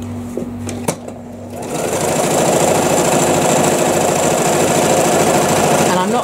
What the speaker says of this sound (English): now I can just switch off and I can let the machine feed the piece of fabric through